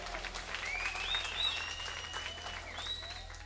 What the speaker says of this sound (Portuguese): Palmas para o Man.